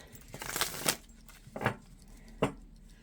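A deck of tarot cards being shuffled by hand, with three short papery riffles and flutters separated by brief pauses, close and fairly quiet.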